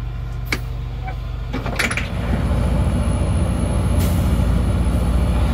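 A bus driving along the road on an electrical repair road trip, a steady loud engine and road rumble with a brief hiss like an air brake and small clinks and rattles inside the cabin.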